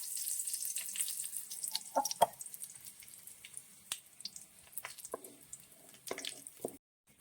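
Mustard seeds hit hot oil in a pan while cooking jackfruit seed thoran, giving sharp scattered crackles and pops over a soft sizzle, fairly quiet and then stopping abruptly.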